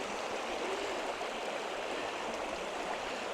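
Steady broadband rush of a forest stream flowing over its eroded bank on a windy night, continuous and fairly close, with no voices.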